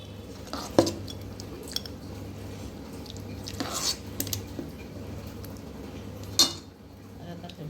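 Tapioca (cassava) dish from a Kerala kitchen being moved onto a serving plate, with scattered clinks of utensils against dishes and soft scraping over a low steady hum, a few sharper taps standing out.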